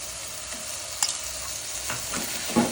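Brinjal sautéing with turmeric and stone-ground masala for a dry goat meat curry, a continuous hissing sizzle with occasional spoon scrapes and a louder stir near the end, no voices.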